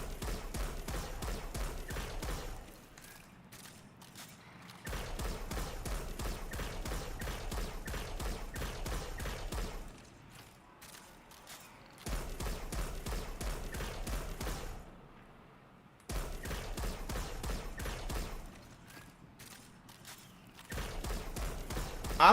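Video game gunfire fired at distant targets while going for headshots comes as rapid automatic bursts, several seconds each, separated by short quieter pauses, steady and moderately loud with no talk over it.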